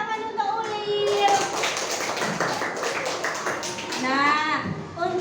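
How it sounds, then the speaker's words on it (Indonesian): Children clapping in a classroom lesson, a rapid burst of small hands that rises and then fades, with children's voices and chatter heard around it. "Beri tepuk tangan untuk Ulil."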